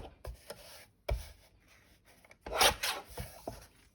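Paper being trimmed for a journal pocket page, with scattered rasping and rubbing strokes of a cut through sheet paper, the loudest burst in the middle, close up with no talking.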